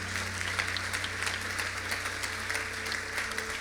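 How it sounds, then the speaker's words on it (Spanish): A church congregation breaks into steady, sustained applause that fills the room evenly from start to finish, with a low electrical hum running underneath. "Dale un aplauso fuerte a Dios."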